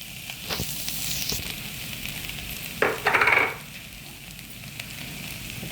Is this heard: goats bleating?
no